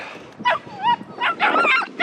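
A small guide dog in Bosnia and Herzegovina whimpers and yips in short, high, wavering cries, several in quick succession, close by.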